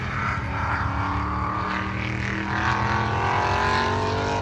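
A Porsche race car at speed on a track day, its engine roaring loudly and continuously with a rising, shifting pitch as it pulls hard, no other sounds standing out.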